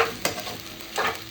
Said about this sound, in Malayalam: ഇനി നല്ലോണം കൊണ്ട് ഇളക്കാം.